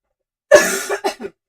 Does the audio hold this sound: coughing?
yes